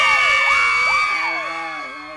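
Women in a live audience scream together, a loud chorus of high, overlapping shrieks that swoop up and down and fade over a couple of seconds.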